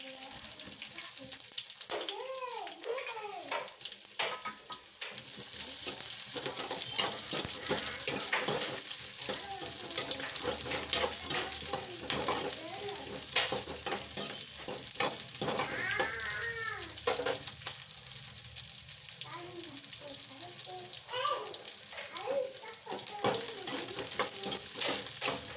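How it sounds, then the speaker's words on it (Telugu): Dried red chillies and onion fry in a little oil for a peas tempering, a continuous moderate sizzle with occasional stirring, while a voice talks intermittently over it. "కొంచెం ఆయిల్ వేసుకొని దాంట్లో కొంచెం ఒట్టిమిరపకాయలు,"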